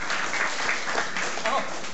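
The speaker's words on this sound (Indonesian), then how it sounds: "Oke, kasih tepuk tangan dulu." Audience at a startup meetup in Indonesia gives a brief round of applause, a steady wash of clapping lasting under two seconds.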